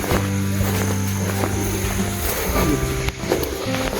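A motor boat engine drones steadily at close range, a low continuous hum with little variation, accompanied by faint water and deck noises.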